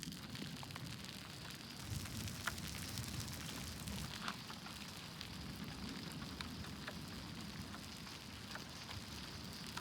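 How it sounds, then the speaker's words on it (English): Rain begins falling in open country during a thunderstorm outside Corson, South Dakota, a steady broadband patter and hiss holding evenly throughout, with occasional sharper drop taps. "Starting to rain."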